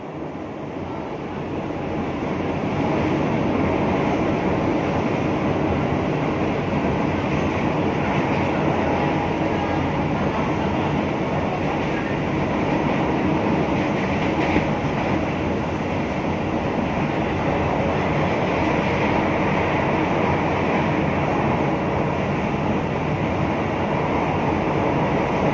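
A KRL commuter train on the Solo–Yogyakarta line rumbles steadily from inside the carriage, with a broad continuous roar and faint wheel clatter holding constant.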